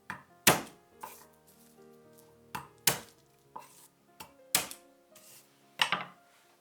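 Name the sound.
knife chopping garlic cloves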